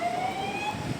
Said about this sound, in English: police van and police car